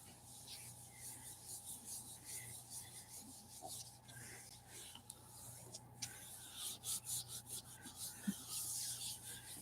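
Paper rubbed by hand onto a gelli printing plate thinly inked in black, giving a faint, continuous scratchy rasp with soft irregular strokes, close and quiet, no voices.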